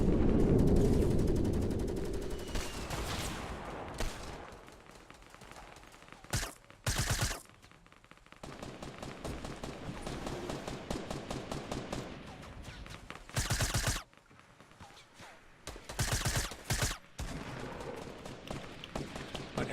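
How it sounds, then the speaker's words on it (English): A silenced SMG fires during a Fortnite match in several short, muffled bursts that stand out from quieter game sounds running underneath. "Hoping I can score some cheap shots with my silenced SMG."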